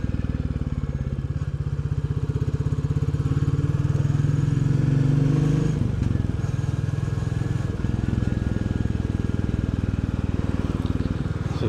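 A Royal Enfield Bullet 350 motorcycle on a Saturday ride, its single-cylinder engine thumping in a steady, close, loud rhythm throughout with wind rush, pitch shifting slightly as the rider changes speed.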